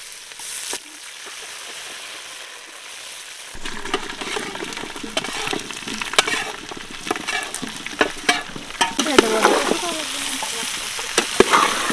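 Bay leaf with garlic and ginger paste frying in hot oil for olive pickle: quiet at first, then a sudden loud sizzle bursts in and keeps crackling, with clatters of stirring and scraping.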